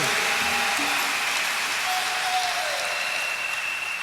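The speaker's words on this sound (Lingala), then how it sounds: "Acclamez le Seigneur Jésus. Betela nkolo Yesu Kristo maboko" Sustained crowd applause at a church service, dense and loud, clapping continuously throughout with a faint tone ringing above it.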